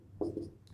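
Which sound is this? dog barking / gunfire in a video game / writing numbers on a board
writing numbers on a board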